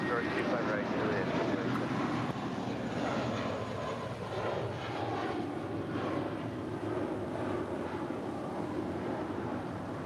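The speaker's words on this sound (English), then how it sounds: "That is Spirit Wings Flight 953 departing to Detroit on an A321." A Spirit Airlines A321 jet departs LAX as a continuous, broad engine rumble that stays fairly loud and steady, with wind buffeting the microphone.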